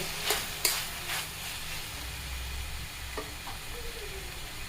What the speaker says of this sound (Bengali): কিছুটা দিয়ে ভালো করে আবার একটু নেড়ে করে নেব